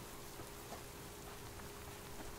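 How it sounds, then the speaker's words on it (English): Steady rain falls outdoors during a fall subsistence hunting trip, a constant dense patter spread evenly across the whole stretch with no voices or other sounds. "Man, it is raining this fall."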